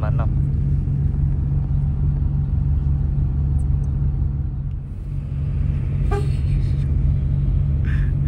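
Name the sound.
sleeper bus engine climbing uphill slowly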